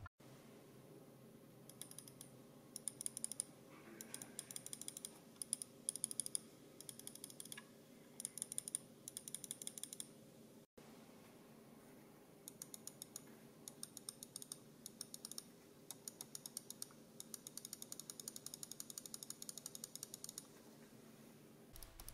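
Buttons on a Logitech G502 HERO gaming mouse with Omron switches rated for 50 million presses clicking repeatedly in close, crisp bursts, with brief pauses between runs of rapid clicks and no talking.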